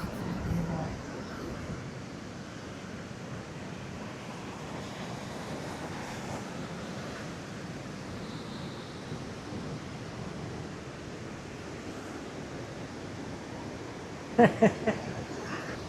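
Wind and surf at the Spit beach on Australia's Gold Coast make a steady, blustery roar throughout, with a few brief knocks near the end.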